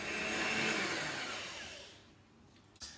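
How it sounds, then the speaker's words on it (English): An electric whisk beats fresh cream on high power for a sponge cake, a loud, close, steady whirring drone that fades and tails off toward the end, with a brief clatter as it stops. "we're going to whisk that now until it's a nice consistency"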